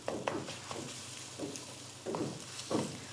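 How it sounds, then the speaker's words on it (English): Egg scrambling in a hot pan, faint sizzling with several soft rhythmic scrapes and stirring strokes, close by and without speech. "Need to scramble the egg"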